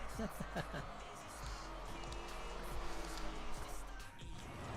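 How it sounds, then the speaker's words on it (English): Race cars pull out onto the track for practice in an auto racing video game. Engines whine and shift at moderate distance under a commentator's voice. "We've got some cars coming onto the track now for practice."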